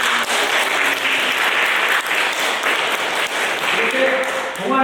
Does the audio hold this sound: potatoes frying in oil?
no